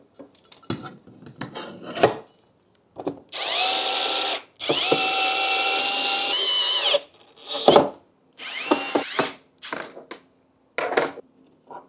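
A power drill bores screw holes into a wall for a mount in several loud, close whirring bursts of varying length, separated by short clicks and handling noises.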